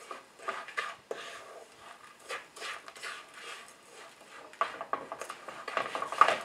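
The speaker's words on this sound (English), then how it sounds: "make sure to stir continuous and keep on low flames, so the sugar will not get burned." Sugar melting over a low flame for mixed nut brittle is stirred in a pan, making repeated close scraping and clinking strokes of a utensil against the metal, with a faint background hiss.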